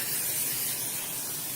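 Cooking spray hissing from a can onto raw chicken thighs, a single steady close spray burst lasting the whole moment with no talking.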